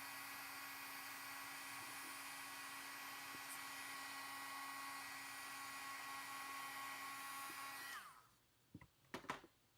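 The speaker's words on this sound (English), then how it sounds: "I'm getting my heating tool nice and hot, and now I'm going to heat the embossing powder" An embossing heat tool blows a loud, steady whirring hiss for about eight seconds while it heats embossing powder on a foiled card, then cuts off, leaving a few quiet knocks.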